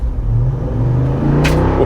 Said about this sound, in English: Right now, you guys can hear the exhaust is in its quiet mode.